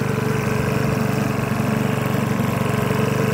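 A Makita BHX2501 petrol leaf blower, brand new and not yet run in, runs with a steady, even engine drone at close range, loud and unbroken, with no speech.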